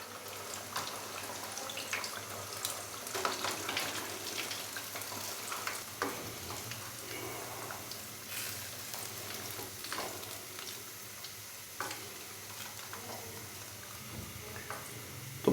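Fish pieces frying in hot oil for a crispy spiced fish fry, a steady close sizzle with scattered crackles and pops running throughout, fairly quiet and with no talking.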